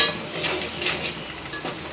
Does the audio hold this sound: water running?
no